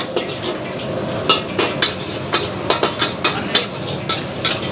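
Shrimp frying in a pan for a busy dinner service, with steady sizzling under a series of sharp metallic scrapes and clinks from utensils against the pan, about a dozen in irregular rhythm, close and fairly loud.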